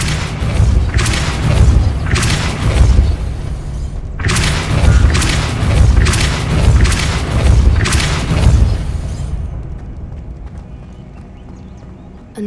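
Heavy booming blasts from the Depulso spell in the video game Hogwarts Legacy, loud and repeated in several dense bursts before trailing off into quiet, with no talk.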